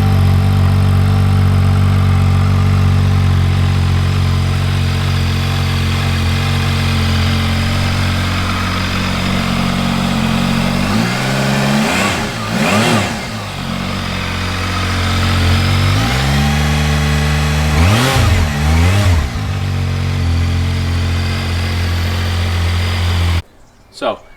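A Zontes ZT 703 F motorcycle engine idles steadily and loud, then revs sharply twice in rising and falling surges before settling back to idle; a voice can be heard.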